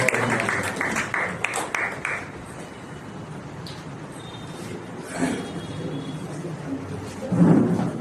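Audience applause at a welcome ceremony during a poetry gathering: a burst of clapping in the first couple of seconds that fades into a murmuring room with faint voices and scattered noise.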